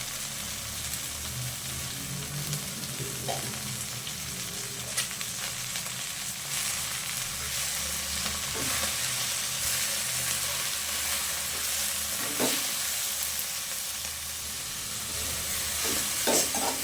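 Gongura leaves fry in hot oil with a constant, close sizzle, broken now and then by soft stirring scrapes; no one speaks.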